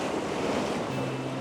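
Ocean surf splashing against a rocky seashore, a steady broadband wash of water with wind noise buffeting the microphone throughout, close and continuous with no voices.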